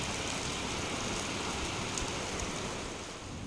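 Steady rain falls continuously, a dense even hiss of drops on surfaces, with no voices or other sounds breaking through.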